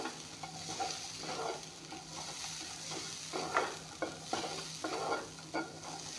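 Green peas fry lightly in a pan, with a soft, low sizzle broken by regular scraping stir strokes about once a second, quiet and close.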